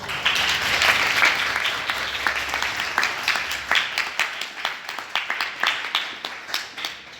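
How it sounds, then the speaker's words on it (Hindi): Applause from a gathering at a meditation session in a government girls' senior secondary school, dense clapping at first that thins into a few distinct, separate claps toward the end. "तालियां बजाएं।"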